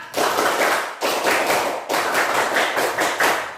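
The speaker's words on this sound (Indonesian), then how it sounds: "Tepuk semangat." A classroom of students claps a rhythmic spirit clap together, with dense, loud bursts of many hands repeated in steady groups for several seconds and no talking over it.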